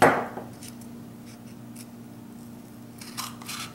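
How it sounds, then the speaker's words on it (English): Scissors cut a strip from cardboard, a loud close snip at the start followed by softer crunching snips and rustles toward the end, with no talking. "I'm now going to cut each strip."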